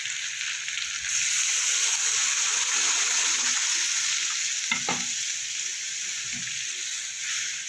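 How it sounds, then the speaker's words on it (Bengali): Water poured into a pan of sizzling pumpkin and potato vegetable curry, a loud hissing sizzle that swells and holds steadily, with a couple of brief knocks from a spoon or pot near the end. "এবার আমি জল দিয়ে দেবো।"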